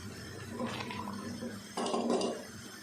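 Black masoor dal cooking in a pot on a high flame to dry off its water: a steady, close sizzling and bubbling hiss that swells louder in the second half, with no talking.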